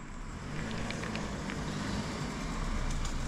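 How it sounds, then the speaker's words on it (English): A car on a road along the Appalachian Trail approaches with a steady, fairly close low engine and tire rumble, no talking. "Seems like there's another car coming here."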